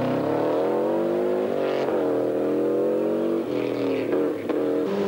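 A Subaru rally car on a 1994 rally stage, its engine revving hard through several gear changes with rising and falling pitch, loud and close, alone without talk.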